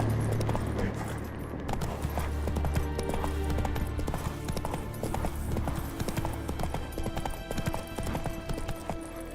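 Roach, the horse in the video game The Witcher 3, galloping with fast, continuous clip-clop hoofbeats close up over a dense bed of game ambience, steady from start to finish.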